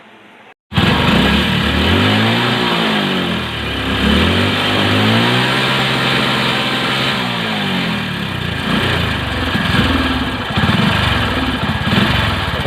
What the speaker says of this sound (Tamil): பார்த்தீங்கன்னா இந்த வண்டி பயங்கரமாக அடைக்குது.